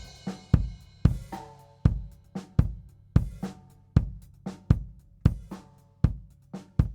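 A steady drum loop with punchy kick and snare hits in a regular rhythm, heavy compression leaving the snare subdued and squashed behind the beat.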